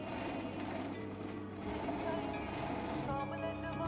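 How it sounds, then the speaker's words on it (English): A sewing machine stitching kameez fabric, a steady fast mechanical whir and rattle heard close but fairly quiet, running continuously without pause. "What you want to do is stitch right down the middle all the way to the hip."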